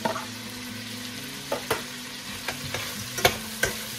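Bacon and chorizo de Bilbao fry in a pan, a steady soft sizzle broken by a few sharp utensil scrapes and pops, close and moderately quiet with no talking.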